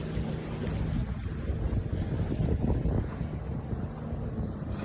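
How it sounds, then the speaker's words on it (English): Steady wind rushes across the microphone aboard a Buccaneer 18 sailboat under full working sails near the PDX airport, with water sloshing faintly beneath a continuous, fairly loud breeze and no talking. "I'm getting that breeze off the PDX airport."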